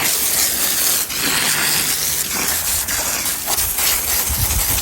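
A hose jet blasts hard against the blades and grille of a Lasko pedestal fan, giving a loud continuous hiss and splatter with brief dips as the stream shifts across the parts.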